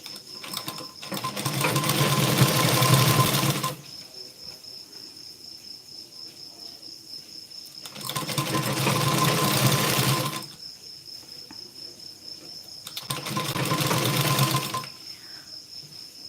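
A sewing machine stitches a blouse sleeve in three separate bursts of rapid whirring, each a few seconds long, with quiet pauses between them.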